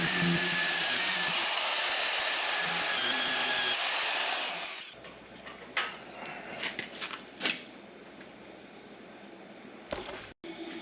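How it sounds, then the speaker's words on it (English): A magnetic drill bores holes in a steel plate meant for a pintle-hitch tow bar, giving a loud, steady motor whine for a few seconds before it winds down into quieter metallic clanks and handling noises. "Because then I'm going to drill these holes in here"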